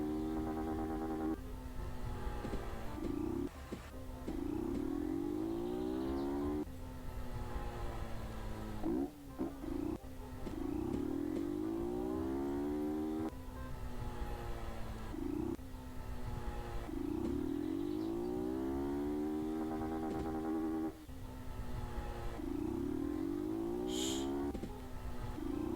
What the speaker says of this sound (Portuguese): a moto é muito boa